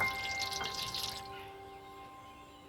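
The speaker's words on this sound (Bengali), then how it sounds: "জল দিয়ে ধুয়ে নেব" Water runs and trickles over eggplant as it is washed, a soft, close splashing that fades away after a second or so, with no talk.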